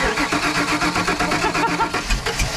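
A 1979 Ford F-250 truck engine, its battery long unused, cranks in a fast rhythmic churn and catches, running loud and close with an uneven mid-pitched rumble.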